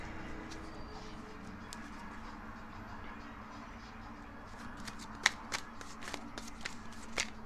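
Tarot cards shuffled and drawn from a deck, a soft continuous riffling under low room noise that gives way to a few sharper flicks and slaps as individual cards are laid down near the end.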